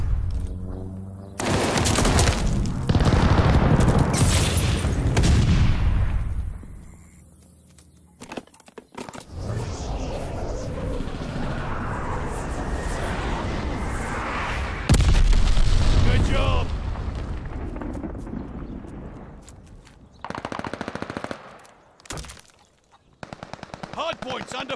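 In a competitive hardpoint match of a first-person shooter video game, an allied airstrike brings heavy booming explosions and sustained machine-gun fire. The dense, loud barrage continues almost without pause under occasional game announcer speech.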